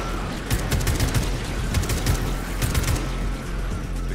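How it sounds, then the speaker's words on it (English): Gunfire in the video game Atomic Heart, a steady rattle of rapid shots over a low rumbling background, moderately loud and continuous. "Start shooting these guys."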